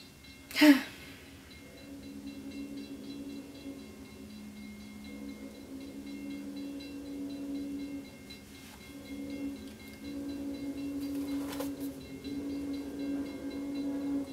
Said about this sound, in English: This is the longest train.